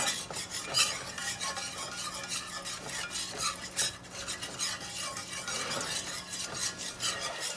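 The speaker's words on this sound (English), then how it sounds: "Keep it moving in your pan." A spoon stirs a flour roux in a pan for breakfast gravy, giving a steady, continuous scraping and swishing with a faint sizzle underneath, close and moderately loud throughout with no talking.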